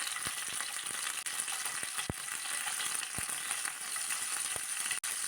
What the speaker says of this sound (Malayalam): മുളക് വറുത്ത അതേ എണ്ണയിലേക്ക് തന്നെ കഴുകി ക്ലീനാക്കി വെച്ചിരിക്കുന്ന ഉണക്കമീൻ ഇട്ട് കൊടുക്കാം